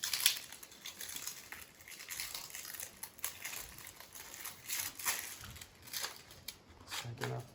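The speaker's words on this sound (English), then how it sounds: "And then we're going to unwrap our sediment filter." Plastic wrapping is crinkled and torn off a sediment filter for a Sugar Cube ZB reverse osmosis system, a few faint, close crackles and rustles scattered over about seven seconds with no talk.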